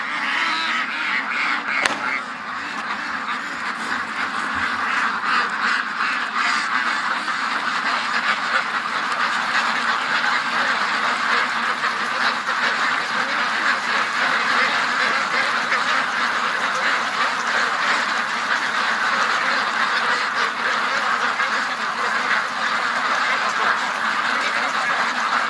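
Ducks quacking steadily outdoors on a very windy day, their calls overlapping in a dense, continuous chorus over constant wind noise.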